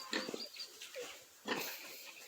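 Pigs on a small pig and wild boar farm give a few short grunting calls and squeals, moderately close and faint, separated by brief pauses, with no talking.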